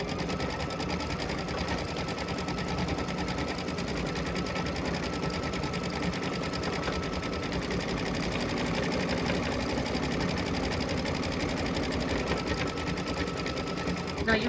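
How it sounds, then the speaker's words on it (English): A Kimberbell embroidery machine stitches out a lace pumpkin design, its rapid needle chatter running steady and continuous from start to finish, close and fairly loud, with a faint mechanical hum underneath. "So this is the very last stitch part. So I'm just gonna watch this particular one stitch out"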